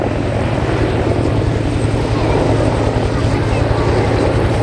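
Heavy military transport helicopter roaring past at speed in a high-speed pass at an air show, a loud, steady rotor and engine drone with a thick low-end beat that stays close and powerful throughout.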